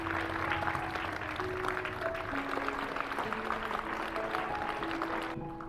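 A school audience of students applauds at a motivational talk, steady dense clapping lasting throughout at moderate distance, with faint tonal voices or sounds mixed underneath.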